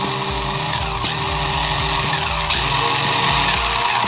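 A Yamaha FAZER MK2 motorcycle on a bench test with its rear tire spinning, a loud continuous mechanical whir with a rhythmic pulsing tone and no talk.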